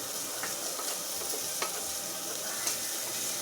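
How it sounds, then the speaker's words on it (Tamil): Onion sautés in a pan for corn soup, giving a soft, even sizzle with occasional light scrapes and stirring clicks, fairly quiet and steady with no talking. "நல்லா வதக்கிக்கணும்"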